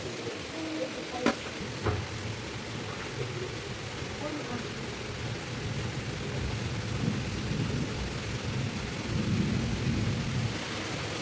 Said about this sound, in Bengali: দেখেন বাহিরে বৃষ্টি